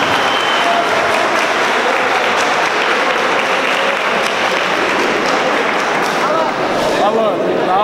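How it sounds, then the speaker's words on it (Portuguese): Loud, dense crowd applause at an Open Fight Championship combat event, a continuous wash of clapping and cheering with an announcer's voice talking over it. "vamos aplaudir"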